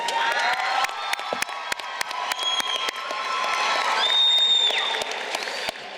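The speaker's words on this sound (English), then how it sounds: "Please join me in giving our teachers and staff a well-deserved round of applause." A crowd at a senior graduation ceremony applauds teachers and staff with scattered sharp claps, whoops and high-pitched shouts and cheers rising over the steady clapping, which swells midway and stays lively.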